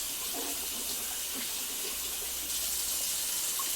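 A kitchen tap runs in a steady, even hiss while sweet peppers are washed, with faint splashes and knocks underneath and no talking.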